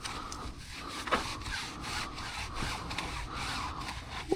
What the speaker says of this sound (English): I'll get the scrubbing.